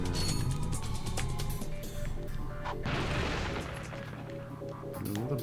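Bomb Glove blasts from Ratchet and Clank, a desert level, burst out as sharp explosive bangs and crashes in quick succession, loud and close, with an electronic tone ringing underneath.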